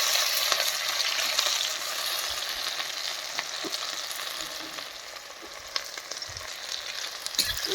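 Garlic, green chili, onion and tomato fry steadily in a pan for a winter mixed-vegetable dish, a continuous close sizzle with occasional light stirring clicks and no voices.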